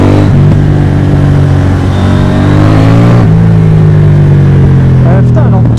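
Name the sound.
KTM Duke 790 motorcycle accelerating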